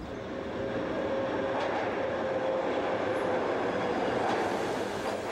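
A subway train on steel wheels rumbles steadily through a tunnel, a dense continuous roar of steel wheels on rails with faint squeals rising above it.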